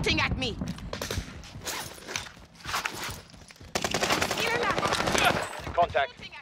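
Gunfire in Call of Duty: Modern Warfare: rapid automatic bursts and scattered shots crackle close by, heaviest in the second half, with game voices talking over the shooting.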